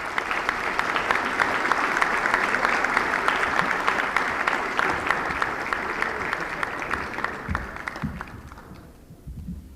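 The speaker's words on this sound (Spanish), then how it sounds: "Los despedimos, por favor, con un aplauso." Audience at a plenary session on traditional knowledge and climate change applauds steadily, a dense wash of many hands clapping that fades out near the end.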